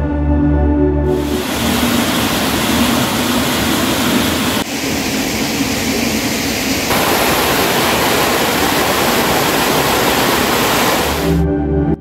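Spring water at a pilgrimage shrine pours in a steady, loud rushing stream, continuous and broadband, with no voices.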